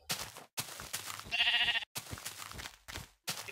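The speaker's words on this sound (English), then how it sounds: "Come on, stupid sheep." A Minecraft sheep bleats once in a short, bright, wavering call. Spoken comments break up the quiet gaps around it.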